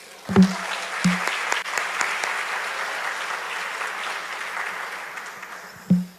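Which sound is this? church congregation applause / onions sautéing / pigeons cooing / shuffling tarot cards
church congregation applause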